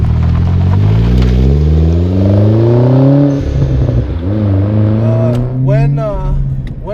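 Modified Hyundai Genesis Coupe 2.0T with an aftermarket clutch pulling hard from inside the cabin, the engine note climbing loudly through the revs, dipping at a shift, then rising again.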